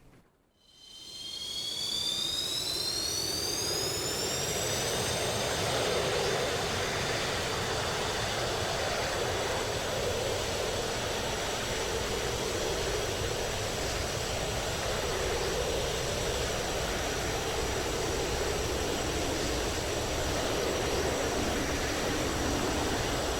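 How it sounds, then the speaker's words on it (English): A JF-17 jet in the DCS flight simulator spools up and takes off, a loud sustained engine roar with a rising whine that levels into a steady high tone, continuous and alone without voices. "I was actually a bit heavy here with this takeoff"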